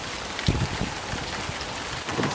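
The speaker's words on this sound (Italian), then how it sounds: "Ha ripreso a piovere" Nighttime rain in Tirana patters densely and evenly on surfaces close by, a steady hiss with scattered louder drops.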